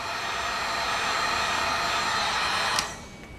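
A heat gun blasts steadily at close range, shrinking a small piece of heat shrink tubing over radar detector wiring on a 2020 Yamaha MT-09, a continuous airy roar that cuts off sharply near the end.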